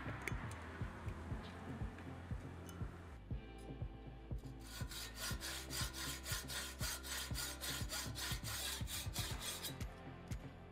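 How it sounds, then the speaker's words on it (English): A saw cuts through the sprue of an aluminum casting with steady, rhythmic back-and-forth rasping strokes, close and fairly quiet, quickening into tighter strokes partway through; no voices. "After cutting off the sprue,"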